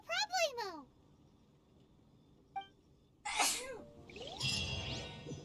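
A sharp double sneeze bursts out at the start of a Genshin Impact scene, followed by quieter game sounds and brief vocal noises.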